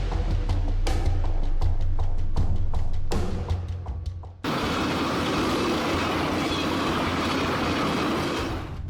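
Train running along railway tracks, a loud rhythmic clatter of wheels over rail joints for the first few seconds, then a dense, steady rumbling roar as the cars pass close by.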